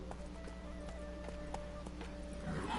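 Horse hooves clip-clopping at a run in The Witcher 3 video game, a steady moderate rhythm under game ambience with a soft whinny near the end.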